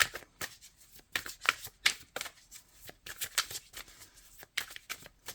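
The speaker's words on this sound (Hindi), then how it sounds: "मैं 2 कार्ड और निकालूंगी।" Tarot cards riffled and drawn by hand during a card reading, heard close up as repeated crisp bursts of shuffling separated by short pauses, with no talking.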